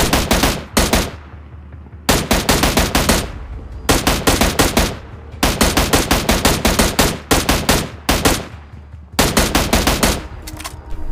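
An M16 rifle in a mobile shooter game fires six rapid automatic bursts of roughly a second and a half each, separated by brief pauses, loud and close.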